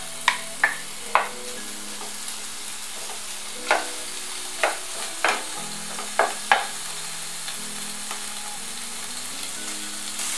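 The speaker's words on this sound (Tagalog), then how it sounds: "tara na't umpisahan ang paggigisa" Meat sautéing in a pan with a little oil for Filipino mung bean stew with fresh bitter melon leaves: a steady sizzle with a string of sharp utensil clanks and scrapes spaced through the first two thirds, then a quieter fry.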